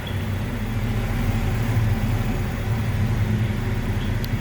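A 1964 Chevrolet Chevelle Malibu SS with a 4-speed manual transmission idles smoothly, a steady low rumble held close and even for the whole stretch with no talk over it.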